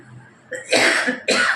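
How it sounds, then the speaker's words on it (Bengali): Someone coughs twice in quick succession, close and loud, the second a short harsh burst after a brief pause. "কাশি শুরু হয়ে গেছে কি তাহলে"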